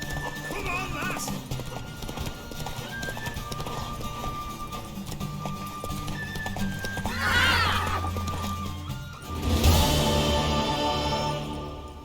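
Horse in The Witcher 3 galloping with a rapid clip-clop of hooves, then a loud close whinny near the end, over game ambience and music.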